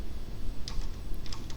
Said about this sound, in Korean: 얘는 지금 타이핑을 치고 있는 거예요. 그냥 키보드를 두드리고 있는 겁니다.